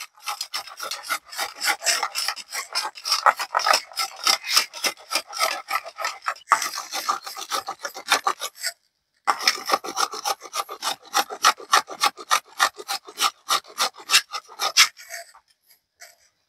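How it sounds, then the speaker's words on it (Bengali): Beetroot is rasped against a hand grater in quick, rhythmic back-and-forth strokes, close and crisp, with two brief pauses and the strokes tapering off at the end. "এটা এবার আমি কুড়ানি দিয়ে এভাবে কুড়িয়ে নেব"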